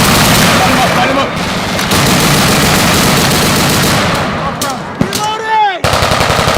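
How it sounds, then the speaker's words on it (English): Machine gun fire during Marine officer field training at The Basic School, Quantico: loud, sustained rapid bursts fill the scene, with a sharp bang near the end and voices shouting over the gunfire. "Machine gun on the right!"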